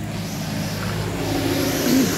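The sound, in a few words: big truck with water tanks passing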